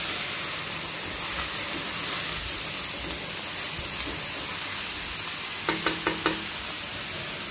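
Beef and lemongrass sautéing in a pan give off a steady, close sizzle and hiss, with a quick run of four sharp clinks near the end.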